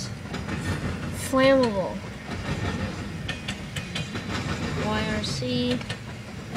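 BNSF freight train cars roll steadily past in PdC with a continuous rumbling clatter and occasional wheel squeals, while a nearby voice reads out the car markings over the noise.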